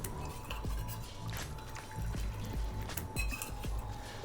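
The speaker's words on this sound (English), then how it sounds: "4 ounces of water." Four ounces of water poured into a sweet and sour mix for a whiskey sour, a soft, close splashing trickle running for a few seconds.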